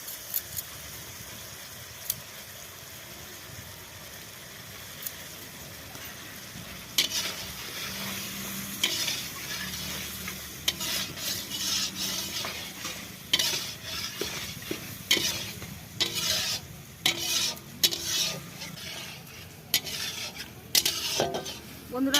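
Curry with ground garam masala paste frying and being stirred in a pan, a steady sizzle under repeated scraping strokes of the spoon that grow louder and busier in the second half, with no talking.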